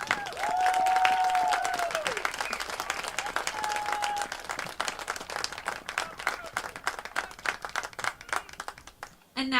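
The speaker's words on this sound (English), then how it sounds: "Please join me in giving these 4 young men a round of applause." A crowd at a college men's soccer game applauds four players with sustained clapping and some cheering. A voice on the public address echoes briefly at the start, and the clapping grows ragged and fades near the end.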